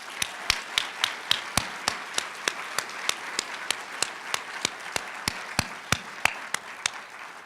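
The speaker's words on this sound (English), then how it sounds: "Please join in a round of applause." Sharp, evenly spaced hand claps ring out one at a time at an awards ceremony honoring work for Oakland students, sounding like only a few people clapping in a steady rhythm with no voices.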